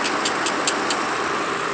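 Engine of a 2006 Nissan Altima idling steadily after a new crankshaft position sensor was fitted, a close, even hum with a few faint ticks over it.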